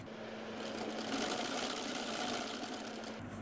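A sewing machine stitches narrow fabric loops for a neckline, giving a steady, continuous close-up mechanical hum throughout.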